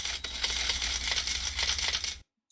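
Coin sound effect used in a music production, a bright cluster of metallic clinks and jingles lasting about two seconds before cutting off abruptly into silence.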